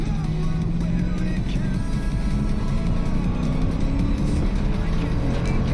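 A Tesla Model 3 Performance with added performance mods and Nankang CR1 tyres races along a winding mountain touge road, a steady whirring drive hum with rising pitch alongside road and tyre rumble, continuous and fairly close.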